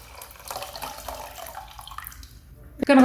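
Water is poured from a tap into a casserole pot, a soft running splash heard for a few seconds before a brief louder burst at the end.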